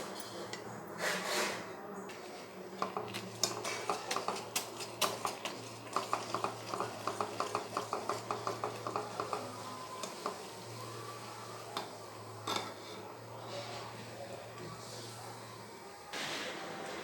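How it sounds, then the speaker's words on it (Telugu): A spoon works cashew barfi batter around a pan with ghee, producing a run of rhythmic scraping taps and clicks over a low steady hum, slow and deliberate. "ఉండలు కట్టకుండా తిప్పండి జాగ్రత్తగా, నిదానంగా"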